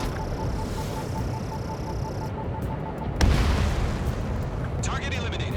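Anti-aircraft guns in Ace Combat 7 open up with a sudden loud burst of booming fire, followed by a dense rumble of flak and explosions beneath an airborne drone, with voices speaking over it.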